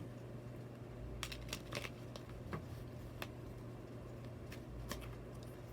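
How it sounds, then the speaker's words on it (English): A deck of tarot cards being shuffled by hand, soft irregular riffling taps and flicks over a low steady hum, close and quiet, with no talking. "We'll give it one more shuffle, and then cut."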